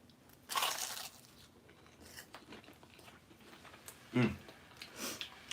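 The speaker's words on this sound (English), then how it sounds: "go ahead and take a little bite. They'll hear the crunch." Two loud crunchy bites into a sweet cream-cheese treat, one early and one near the end, with soft chewing and faint rustles in between and a quiet voice murmuring under the pauses.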